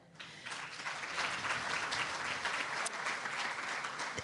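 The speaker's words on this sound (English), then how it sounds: "They're just so excited they clapped for you already." A crowd applauds at an education conference, dense steady clapping swelling in over the first half second and holding evenly, somewhat distant, with no talk.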